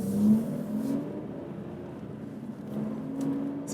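Aston Martin V12 Vantage S Roadster with a 7-speed automated manual gearbox pulling away in first gear, a steady mid-loud engine drone and hum from inside the car, rising slightly, with no talk.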